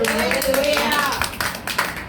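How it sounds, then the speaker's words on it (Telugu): A church congregation at a Friday worship service claps their hands in a steady rhythm under a prominent voice speaking or singing. "చప్పట్లు కొట్టి"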